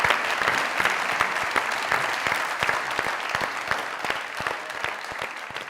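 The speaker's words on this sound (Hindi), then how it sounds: "जोरदार ताली।" Loud, sustained applause from a studio audience at a Pakistani comedy show, with dense rapid clapping filling the whole stretch and no talking over it.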